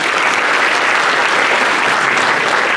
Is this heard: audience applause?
yes